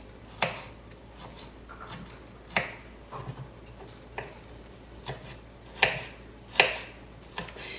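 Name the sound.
knife chopping ingredients for tuna salad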